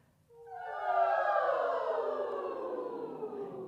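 A women's choir glides together from a high pitch down to a low one in a drawn-out siren-like sweep, voices imitating a siren, starting after a brief pause and sustaining for a few seconds at steady loudness.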